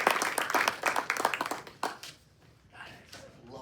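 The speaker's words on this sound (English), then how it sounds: "Round of applause for Tully Banta Cain." Coaching staff at a keynote address clap for Tully Banta Cain in a short, fairly close round of applause that thins out and fades after about two seconds.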